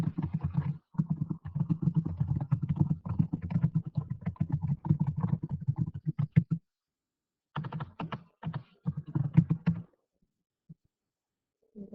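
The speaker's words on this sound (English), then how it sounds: "And I'm going to type my question." Typing on a computer keyboard while entering a true/false quiz question: steady runs of close, crisp keystrokes, a brief pause partway through, then a few more bursts before the keys fall silent.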